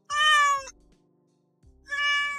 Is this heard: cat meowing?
yes